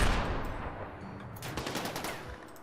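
Gunfire in the video game RimWorld comes as a quick, rattling burst of small shots, close and fairly quiet, with no talk over it.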